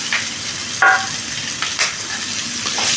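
A fried fish head is added to a wok of sizzling onion and green chilli, giving a steady close frying hiss with a few brief stirring clatters.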